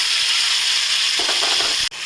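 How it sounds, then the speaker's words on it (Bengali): Prawns frying in a pan of oil give a steady, close sizzle and hiss, with a brief stir or clatter near the end. "চিংড়ি মাছটা আমি প্রথমে ভেজে ফেলে নিচ্ছি"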